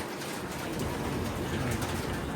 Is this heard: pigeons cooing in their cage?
yes